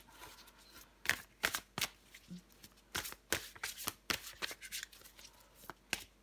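Tarot cards are shuffled close by in quick bursts of crisp riffling and flicking, about a dozen sharp rustles in uneven rhythm, quiet and alone without speech.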